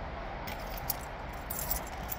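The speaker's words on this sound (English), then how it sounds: "Keys." Keys jangle near a zip-up jacket pocket, a few light metallic clinks and rattles over quiet room tone, with small sharp peaks as they shift.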